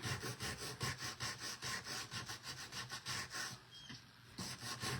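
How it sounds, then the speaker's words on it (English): Steady back-and-forth sanding strokes by hand on a decorated book, about three per second in an even rhythm, close and moderately quiet, briefly pausing before resuming. "So I'll sand this while we're waiting for our 2 minutes here."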